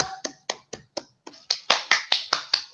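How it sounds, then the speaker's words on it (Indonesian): A class claps for a student group in a short, sharp series of distinct nearby claps, about a dozen in a steady rhythm that grows louder and denser halfway through. "Kasih tepuk tangan dulu dong untuk kelompok"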